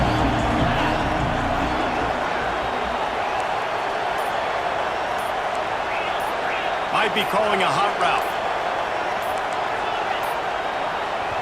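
A loud, steady stadium crowd roar at a Penn State versus Maryland college football game, a dense sustained wash of noise that runs throughout under a commentator's voice.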